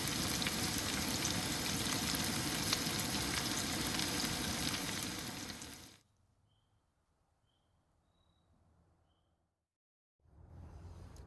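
Marinated chicken frying in a pan at a Jeep camper, a steady, loud, dense sizzle for about six seconds that cuts off abruptly to near silence with faint tones, then the sizzle returns.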